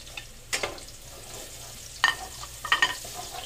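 Garlic and ginger fry in a pan for pork dinuguan, a quiet sizzle broken by a few sharp spatula stirs and scrapes, one early and a cluster near the end, with no voices.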